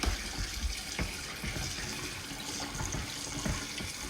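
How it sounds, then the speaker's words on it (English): Cold water runs from a kitchen tap over slimy okra being rinsed, a steady faint splashing stream that carries on alone with no voices. "I'm going to let that cold water run"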